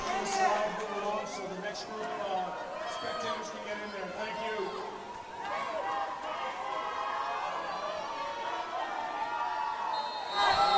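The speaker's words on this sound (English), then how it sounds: "you can hear the crowd getting loud" Crowd noise builds and swells in an indoor pool arena at a provincial swimming championship finals session before a boys' 50-metre breaststroke final, with steady murmuring and cheering, and a voice over a public-address system speaking throughout.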